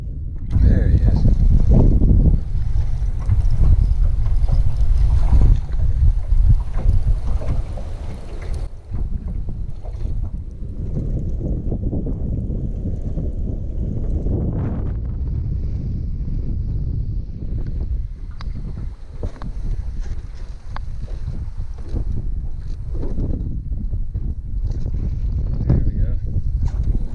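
Wind buffets the microphone on a lake while fishing from a boat, a loud continuous roar with gusts that ease and swell, strongest at the start.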